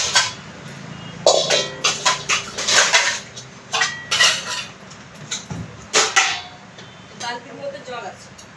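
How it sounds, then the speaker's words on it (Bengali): Rice, 1.5 kilos, being washed in a metal pot, with repeated clanks, scrapes and splashy rattles in an uneven rhythm, heard close, while a person talks at times over the clatter. "তো চালটা আমি এখন ধুবো"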